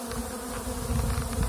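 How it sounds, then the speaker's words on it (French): Honeybees buzz steadily at close range over a hive frame during a queen search in June, a continuous droning hum with slight swells in loudness and no talking. "Vous voyez là, hop, il y a une petite abeille en dessous."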